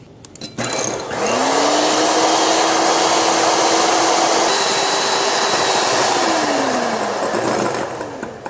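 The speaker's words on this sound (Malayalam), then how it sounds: "ഇനി നമുക്ക് ഈ വൈറ്റ് നന്നായി ഒന്ന് ബീറ്റ് ചെയ്തെടുക്കാം" An electric hand mixer whirs steadily as it beats egg whites in a dry bowl for a floating island dessert. The tone rises as it speeds up, holds loud and even for several seconds, then winds down.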